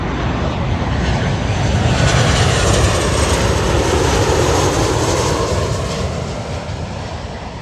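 A passenger jet comes in to land at Birmingham Airport, passing low overhead with a loud, broad engine roar that swells and slowly fades over several seconds.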